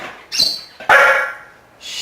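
A dog barks on command, giving two or three sharp, loud, close barks with short gaps between them and no one speaking.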